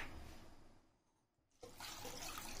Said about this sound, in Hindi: अब इसके अंदर हम डाल देंगे थोड़ा सा पानी